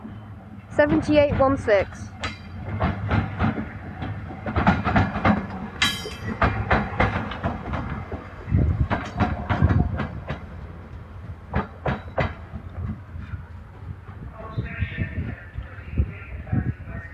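A Rugby to Carlisle train passing through Crewe station on the West Coast Main Line, a long rumbling run of wheel clatter and rolling noise with a person speaking over it.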